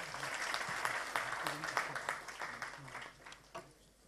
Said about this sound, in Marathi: जिद्दीसाठी मात्र एकदा टाळ्या होऊ देत